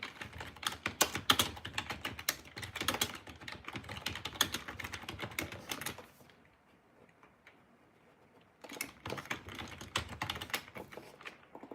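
Rapid typing on a computer keyboard, dense fast clicks in bursts, close and crisp, pausing for a couple of seconds of near silence before resuming.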